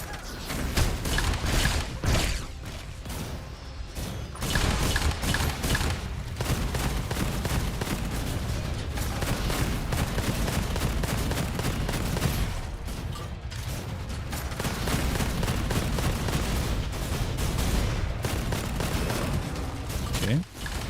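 Foundry pistol gunfire in a video game, with repeated loud shots and clanking mechanical sounds in dense, busy bursts, and a voice talking over much of the action.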